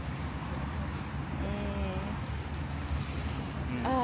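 Steady wind rushes and buffets the microphone outdoors near open water, a low continuous roar with a brief voice emerging near the end.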